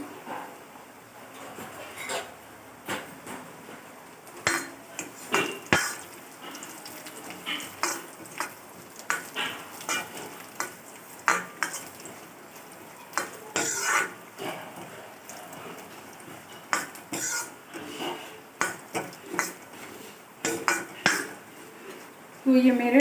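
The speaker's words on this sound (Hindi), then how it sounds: "तो ये मेरे ड्राई फ्रूट रोस्ट हो रहे हैं और मैं इनको हल्का ब्राउन होने तक रोस्ट करूँगी" Dry fruits roasting in a kadhai, with intermittent scraping, stirring clatters and soft crackles near at hand over a quiet background, irregular bursts of spoon on metal throughout.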